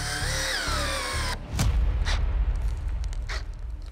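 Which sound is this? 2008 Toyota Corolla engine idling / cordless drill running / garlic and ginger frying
cordless drill running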